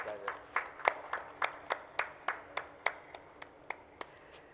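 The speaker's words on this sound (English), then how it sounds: "Let's have a huge round of applause, ladies and gentlemen, for the fantastic moderation" Scattered hand clapping from a small conference audience at a healthcare panel session, about a dozen distinct claps in a loose, thinning rhythm, moderately close, with no talking over them.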